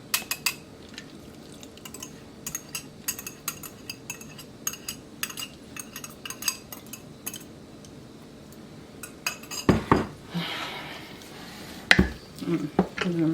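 Banana ginger bread pudding with bananas and eggs being stirred in a bowl: scattered clinks and scrapes of a utensil against the dish, light and close, growing busier and louder toward the end.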